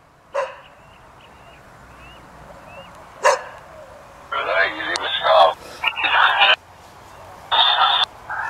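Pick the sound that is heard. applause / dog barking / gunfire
dog barking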